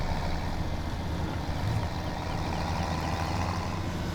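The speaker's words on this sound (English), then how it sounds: "Oh no, I left the engine running." A Case tractor engine idles steadily in Farming Simulator 2017, giving a constant low rumbling drone with no pauses or changes throughout.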